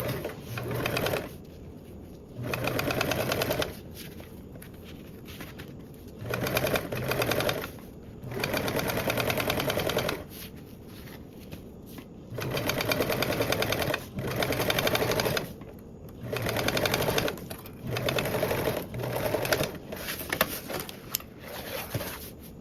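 A sewing machine top stitches a seam on a duffle bag in repeated bursts of steady whirring, separated by short pauses, close and fairly quiet.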